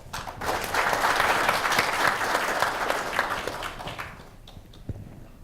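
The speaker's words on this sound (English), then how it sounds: "Please join me in giving a big round of applause to the panel." Sustained audience applause for a panel at an engineering education event, a dense wash of clapping that fades out toward the end, followed by a few scattered claps.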